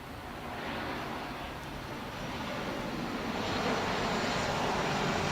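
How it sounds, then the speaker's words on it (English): A Delta jet airliner passing overhead at an outdoor wheelchair tennis tournament, heard as a steady broadband engine roar that swells slightly louder toward the end, with no talk over it. "Reed gives a nod to the Delta jet flying overhead."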